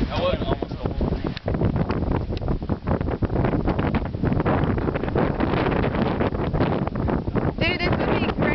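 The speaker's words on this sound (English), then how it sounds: "this is a strong wind right now" Strong wind ahead of Hurricane Ike buffets the microphone outdoors in a loud, steady roar with gusty rumbling throughout, and people speak under it.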